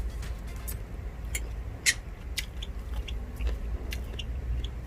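Someone tastes a vegetarian Thai bamboo shoot soup, with soft, close chewing and small crunching and slurping clicks scattered through a quiet kitchen background, and no talking.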